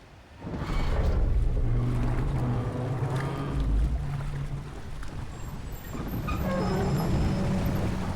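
A dwarven train ride in God of War Ragnarok rumbles steadily and loudly, a continuous mechanical roar with rattling and creaking that carries on without a break, with no talk over it.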